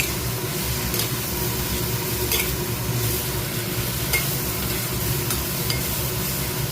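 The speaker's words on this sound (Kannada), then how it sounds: "ಎಲ್ಲನೂ ಚೆನ್ನಾಗಿ ಮಿಕ್ಸ್ ಮಾಡಬೇಕು." Ridge gourd curry is stirred and mixed in a hot pan, with a steady sizzle and the soft scrape of a spoon running throughout at close range, with no talking.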